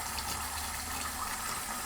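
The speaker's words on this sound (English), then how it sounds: "We need to just turn on the water. We get them nice and wet." Tap water runs steadily into a sink as hands are washed, a soft, even hiss of flowing water with no voices over it.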